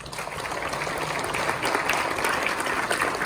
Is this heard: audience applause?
yes